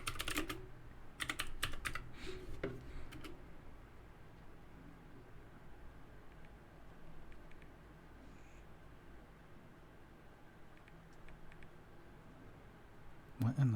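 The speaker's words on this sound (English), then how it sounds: "let me just type in a little thing in here" Someone types on a computer keyboard in scattered quick bursts of clicks, faint against a low indoor background, with a few brief noises near the end.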